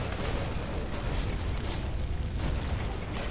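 A factory building in StarCraft 2 is blown apart amid a dense, continuous roar of in-game explosions and rumbling battle noise, loud and busy with bursts layered throughout.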